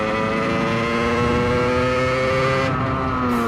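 A small 50 cc supermoto motorcycle engine holds a steady, buzzing drone with a few slight shifts in pitch, loud and close, with no talk over it.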